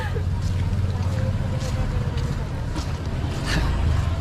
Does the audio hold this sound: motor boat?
yes